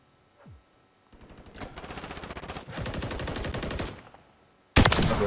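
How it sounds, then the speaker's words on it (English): Video game gunfire right after a player is sniped: bursts of rapid automatic shots, rising into a sustained rattling volley and ending in a loud close blast, with no talk. "And I just got sniped."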